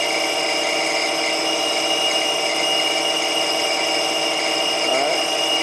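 A Hardinge DSM-A lathe facing off a part, giving a steady machine whine and hum, with a brief scraping cut near the end, loud and continuous with no talk.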